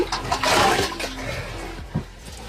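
Water splashes and sloshes in a freshly dug well inside a trench at a military position in Ukraine, with close, irregular gurgling and a few sharper splashes near the end.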